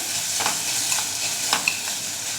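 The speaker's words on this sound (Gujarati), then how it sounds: "બધું જ બરાબર મિક્સ કરી લઈએ ડુંગળી થોડી ચડે અને તેનો કલર બદલાય ત્યાં સુધી ચડવા દઈશું" Onions sizzle steadily as they fry in a pan, with a spatula scraping and stirring through them in a few close, soft strokes.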